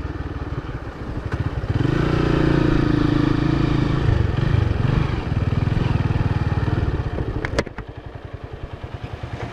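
A motorcycle engine rumbles close by in a parking area at Yogyakarta International Airport, swelling louder for a few seconds as it revs, then settling back to a steady putter before a brief clatter.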